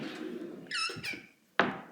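An old wooden pantry cupboard door in an old house creaks open with a high, wavering squeak, then a short knock-like thud and a sharp bump as it settles, no talk.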